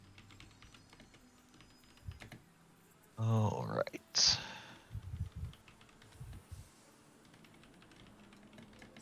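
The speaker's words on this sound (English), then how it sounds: "Sorry, it's a mechanical keyboard" Typing clatters on a mechanical keyboard set close to a microphone, with scattered clicks and a couple of louder bursts of keystrokes, and someone speaks briefly between them.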